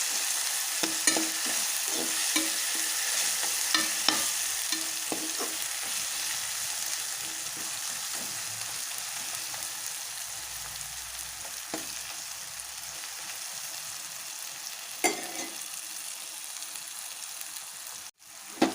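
Green chili paste and coconut frying in a pan for borugulu uggani, a steady close sizzle with repeated scraping stirs throughout, no voices.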